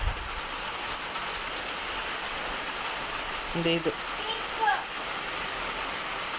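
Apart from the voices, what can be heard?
rain falling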